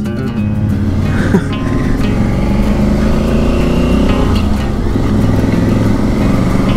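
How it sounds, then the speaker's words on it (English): A bus rolls past on an empty town street, a steady, loud engine drone with broad road rumble that holds throughout, close by and continuous. "Hey, the bus has come, look."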